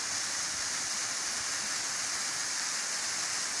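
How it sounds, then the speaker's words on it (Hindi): Water from a high waterfall on a village river pours in a steady, even broadband rush, continuous and fairly close, with no voices over it. "नदी जो आती है ये बहुत ऊंची ऊंची आबिशारें हैं।"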